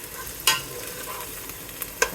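Potatoes and peppers frying in a soup pot as a spoonful of garlic ginger paste gets stirred in, giving a steady soft sizzle punctuated by a few sharp clinks of the spoon against the pot, close and moderately quiet with no talking.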